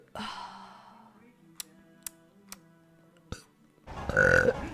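A single deep, drawn-out burp opens, followed by several sharp clicks and a quieter exhale, then a louder breathy sigh near the end, all close and with no other voices.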